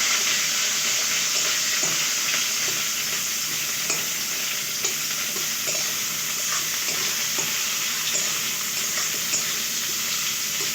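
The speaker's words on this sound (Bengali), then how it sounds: "পেঁয়াজ দিয়ে দিলাম" Onion frying in oil alongside panch phoron for a Bengali eggplant curry, a steady, close, full hiss of sizzling with light stirring scrapes scattered throughout and no talking.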